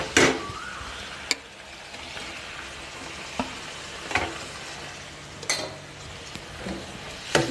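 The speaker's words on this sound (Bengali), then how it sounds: "ভালোভাবে মিশিয়ে নিই।" Eggplant is stirred into a mixed vegetable shukto in a pan, giving a soft, steady sizzle broken by several sharp scraping clacks of the utensil against the pan, with no voices.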